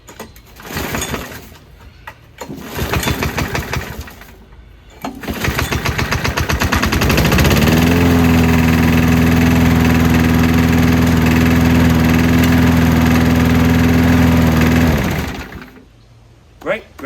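Ride-on lawn mower engine at a cabin being cranked, then catching and settling into a loud, steady, close idle that runs for several seconds before cutting off, with short quieter stretches at either end.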